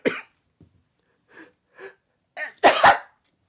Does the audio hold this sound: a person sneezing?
yes